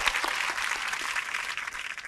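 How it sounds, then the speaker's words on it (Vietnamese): Brisk clapping from a small group fills a short stretch, even and fairly close, with no voices over it. "Vỗ tay."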